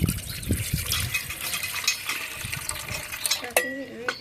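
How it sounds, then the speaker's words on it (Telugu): Water splashes and trickles into a container amid clinks of metal dishes, ending with a brief rising pour from a full glass near the end. "ఒక ఫుల్ గ్లాస్ నీళ్ళు పోసి"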